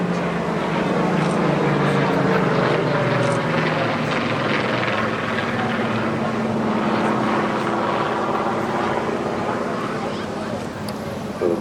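A Spitfire photo reconnaissance aircraft flying past at an airshow, its propeller engine a steady, loud droning roar that sits under continuous commentary from a public-address announcer.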